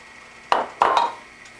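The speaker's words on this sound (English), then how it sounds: "Adding in our chickpeas, otherwise known as garbanzo beans, our cauliflower," Two quick metallic clanks ring out as chickpeas, cauliflower and potatoes drop into a curry pot, short bright hits close by with a brief ringing tail in a quiet kitchen.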